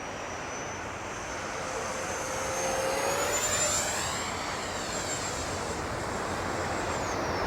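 FMS 64mm EDF J-10 RC jet flying past, a steady whining ducted-fan roar with a rising and falling pitch sweep as it passes, moderately distant, over outdoor hiss and with no talk.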